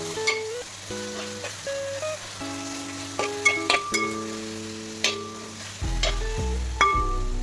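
Tomatoes are mashed and stirred in a frying pan for beef biryani, with a steady sizzle and soft scraping, occasional utensil clinks, and a sustained musical tone in the background throughout.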